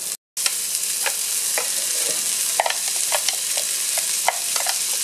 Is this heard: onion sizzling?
yes